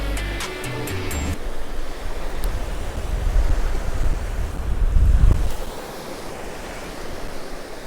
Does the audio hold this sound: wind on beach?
yes